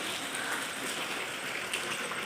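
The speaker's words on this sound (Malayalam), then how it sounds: "നല്ല മഴയായിട്ടോ" Steady rain falls outside a house, a dense even patter and hiss of drops close by with no talking over it.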